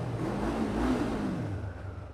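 A car engine revs inside a tunnel, a loud, steady, reverberant roar with a pitch that rises and then falls over about two seconds, close and alone with no talking.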